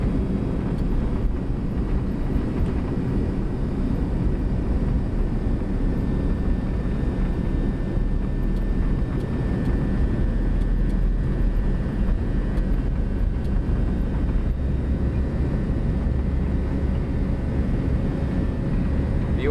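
Boeing 737-200 of Nolinor Aviation on its takeoff roll from runway 36, a loud continuous engine roar with a steady whine, heard from inside the aircraft without a break.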